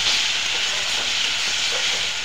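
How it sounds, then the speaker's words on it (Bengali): Spices fry in a pan with a loud, continuous sizzling hiss close up, steady and unbroken throughout, with no talk. "একটু সময় মশলাটা ভাজা হোক।"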